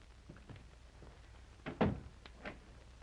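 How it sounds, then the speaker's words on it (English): Door opening, with a few soft knocks and shuffles followed by a louder wooden thunk and creak, then a fainter rattle, heard faintly over a quiet background. "Open the door."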